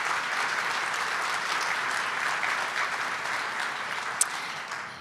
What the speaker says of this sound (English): let's give Tommy and his team a round of applause for that phenomenal breakfast